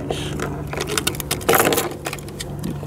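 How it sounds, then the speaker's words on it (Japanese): Car keys for a Nissan Leaf electric share car jangle and clink as they are dropped into the glove box, a close, brief metallic rattle with a louder burst midway, amid light handling noise inside the car. "このグローブボックスの中にこの車の鍵を、ね、"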